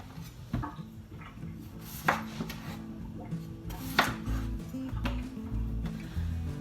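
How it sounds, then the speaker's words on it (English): A knife chopping washed, skin-on potatoes into rough pieces on a cutting board, soft irregular thuds and taps with scraping, close but quiet in a home kitchen. "my potatoes, I'm just gonna cut them up in a rough chop"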